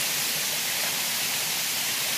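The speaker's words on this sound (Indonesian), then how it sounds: "Sebelah sana air terjunnya." Pangkung Sinangkao waterfall in Bali pours in a dense, even hiss of falling water, loud and constant with no other sounds.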